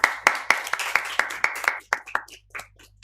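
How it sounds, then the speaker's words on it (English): An audience at a conference session on sustainable consumption and production claps for a few seconds, with sharp, fairly sparse hand claps in a steady rhythm that thin out and fade toward the end. "A round of applause."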